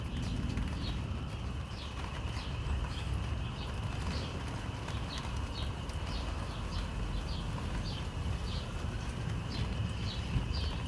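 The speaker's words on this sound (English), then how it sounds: "They're all chirping away in the background." Sparrows chirp in the background during a storm in Manchester, repeated short calls over a steady noisy wash, moderately distant and without voices.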